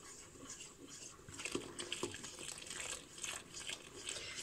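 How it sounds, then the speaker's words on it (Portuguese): Cold water poured into a homemade bleaching soap mixture in a container, a soft, fairly quiet liquid splashing and trickling that continues steadily with small gurgling surges. "eu vou acrescentar aqui 2 litros de água fria"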